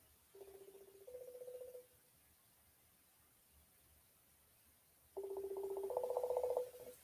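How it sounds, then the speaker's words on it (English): Telephone tones sound as a call is placed: a pair of short stepped tones, a pause, then a louder, longer pair of buzzy tones. "Let's see if he answers his phone."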